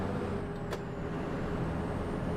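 A DAF Optare Spectra bus in the OMSI 2 simulator gives a short, sharp air-brake hiss over a steady, loud engine rumble.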